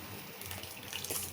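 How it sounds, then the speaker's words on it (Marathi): Water from cooked jeera rice is poured off into a sieve, a soft continuous splashing trickle, faint and close, with no voices. "ह्या अशा पद्धतीने आपल्याला त्यातलं पाणी काढून घ्यायचं आहे आणि एका चाळणीत इथं टाकायचे ते"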